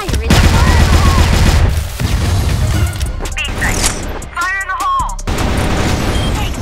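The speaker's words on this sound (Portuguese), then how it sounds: "o cara me fuzilando do meio" Heavy automatic gunfire in the online shooter CrossFire, loud bursts near and close, with crashes and game effects and a voice speaking over parts of it.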